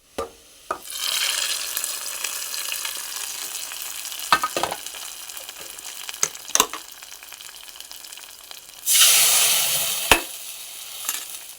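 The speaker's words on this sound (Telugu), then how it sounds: "తాలింపు వేసుకున్న కళాయిలోనే కొంచెం వాటర్ పోసి నేను వేసుకుంటున్నాను" Water poured into a hot kadai holding a freshly fried tempering for leafy dal, a steady sizzling hiss that swells into a loud burst near the end, with occasional clinks of a utensil against the pan.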